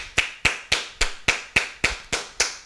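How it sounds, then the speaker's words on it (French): Children clapping in time with a church song, nine sharp evenly spaced claps about a quarter second apart, close and clear with no voices. "Les enfants, acclamez. Tapez, tapez, acclamez,"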